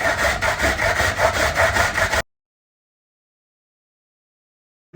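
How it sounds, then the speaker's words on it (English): Carrots are grated on the large side of a box grater, giving quick, rhythmic rasping strokes for about two seconds before it stops. "I'm just going to use the large side of the grater and just grate the carrots."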